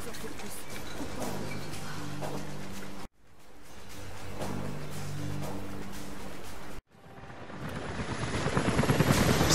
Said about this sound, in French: des hélicoptères arrivent dans votre direction.